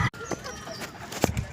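Chickens at a pet shop in Kumbakonam, a rooster with three hens, give short scattered clucks and calls under a murky background, with a couple of louder bursts near the end.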